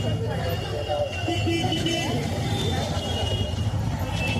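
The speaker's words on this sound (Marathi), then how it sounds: "आहे मुंबईचं मार्केट फुल जाम" A crowded, jammed market street in Mumbai fills the background with steady traffic rumble and crowd hubbub, while a person talks over it nearby.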